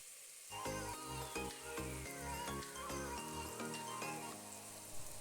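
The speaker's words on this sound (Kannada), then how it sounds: "ತರಕಾರಿನ ಹಸಿ ಸ್ಮೆಲ್ ಹೋಗೋ ತನಕ ಎರಡರಿಂದ ಮೂರು ನಿಮಿಷಗಳ ಕಾಲ ಫ್ರೈ ಮಾಡ್ಕೋಬೇಕಾಗತ್ತೆ" Chopped vegetables and tomato sizzle and fry steadily in a hot pan for a masoor dal and radish sambar, a continuous crackling hiss with occasional stirring knocks, close and loud with no talking.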